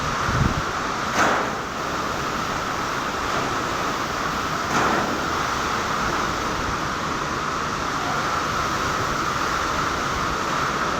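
Strong storm wind battering loose metal roof sheeting at the flashing during heavy rain: a steady, loud roaring rush with a couple of brief thumps early on.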